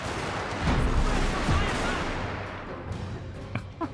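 Rifle volleys in the video game Shogun 2 Fall of the Samurai roll out as a dense, rumbling wall of shots, followed by a few sharper single cracks near the end.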